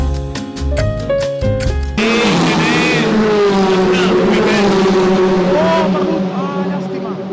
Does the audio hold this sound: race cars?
yes